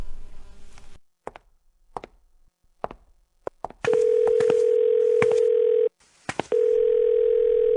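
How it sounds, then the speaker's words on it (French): A telephone call goes unanswered: a few soft taps, then a long steady ringback tone that stops briefly and resumes, loud and close with no speech. "Pourquoi Su Wanru ne répond pas au téléphone"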